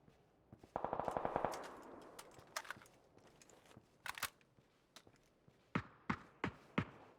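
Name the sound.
gunfire in PUBG video game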